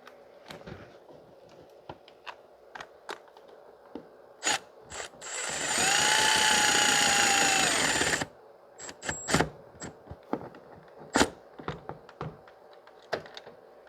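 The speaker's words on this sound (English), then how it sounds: "So we are just going to carefully snug up the other bolts." A ratchet snugging up bolts on the coolant outlet housing of a 2006 Mazda 3 2.3: scattered metallic clicks and taps, then a steady run of ratcheting for about three seconds, followed by more sparse clicks and clinks.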